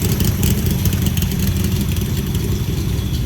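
A Factory Five Racing replica of a 1965 Shelby Cobra MK II idles steadily with a deep, loud, continuous rumble, heard up close and alone.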